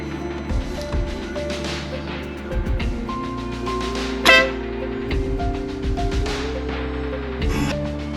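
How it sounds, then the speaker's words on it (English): A newly mounted Wolo Bad Boy air horn blasts in several loud, sustained honks of varying length, with brief gaps between bursts. "install of the Wolo Bad Boy Airhorn"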